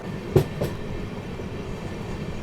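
Vibhuti Express, a train with new LHB coaches, rolling along the rails with a steady low rumble and two brief clicks of wheels over rail joints, heard from inside and close.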